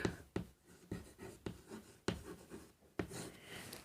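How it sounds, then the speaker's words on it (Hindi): A pen writing the word for cardiac in Hindi script, heard as quiet scratchy strokes with sharp taps at the start of each stroke, close and alone. "कार्डियक हिंदी में लिख देता हूँ, कार्डियक।"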